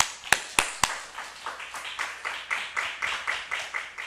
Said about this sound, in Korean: 자, 하나님께 영광의 박수 돌리겠습니다.